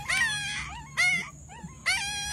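A rescued puppy, found buried alive, whimpers and whines in three high, wavering cries, close by, with short pauses between them.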